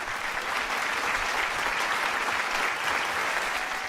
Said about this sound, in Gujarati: આપ બધા માટે એકવાર જોરદાર તાળીઓ વગાડી